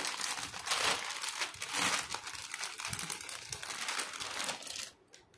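A Libas kurta parcel's plastic packaging is crinkled and torn open up close, a steady run of rustling and crackling for about five seconds before it stops abruptly.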